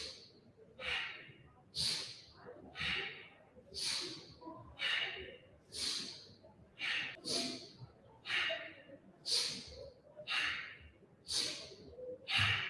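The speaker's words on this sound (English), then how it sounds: "Inhale left," Slow, deliberate yoga breathing, breathy inhales and exhales repeating in an even rhythm about a second apart, close and clear, with no other sound between them.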